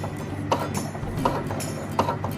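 A sewing machine stitches nylon webbing with a steady mechanical whirr and rapid rhythmic clicking, a few sharper knocks standing out, close and even in loudness.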